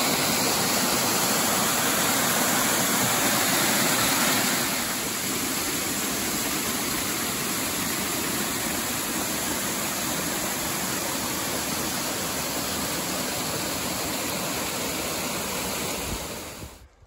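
Rushing waterfalls on the Appalachian Trail roar in a dense, constant wash close by, loud and unbroken until it cuts off at the very end.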